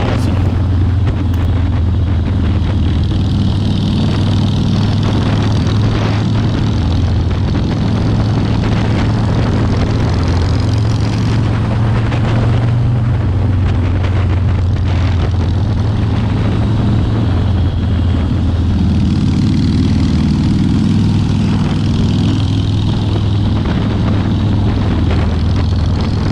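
A 1985 Harley-Davidson Ironhead motorcycle cruising down a straight road, its engine a steady low drone with heavy wind rush across the microphone, continuous and loud throughout with no talking.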